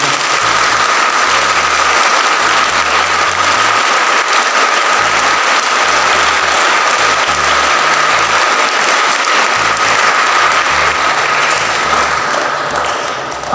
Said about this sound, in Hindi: इनके लिए दोबारा से एक बार तालियां बजाएं